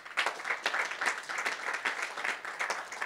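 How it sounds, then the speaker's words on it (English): A ceremony audience applauds the panel members at a UK-India awards event, with moderately quiet, continuous clapping from a modest crowd and distinct individual claps pulsing throughout. "can we please give a big round of applause to all our panel members?"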